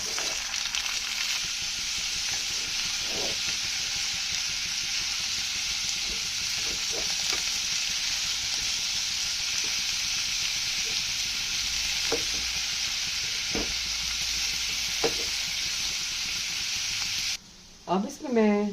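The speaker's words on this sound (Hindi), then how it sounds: "अब इसको हम स्लो फ्लेम पे लाइट फ्राई करेंगे।" Asparagus frying in hot oil over a low flame, a steady close hiss and sizzle running throughout with occasional stirring clinks, ending with a brief clatter.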